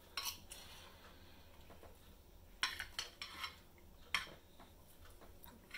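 A spoon clinks and scrapes against a bowl while gravy is stirred into haggis, neeps and tatties, a few sharp metallic taps and quieter scraping at close range in a quiet room.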